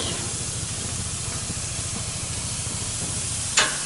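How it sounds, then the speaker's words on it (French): Meat grills in a barbecue wok, giving a continuous close hiss and sizzle at a steady level, with a brief sharp clink near the end. "Alors maintenant on va griller la viande."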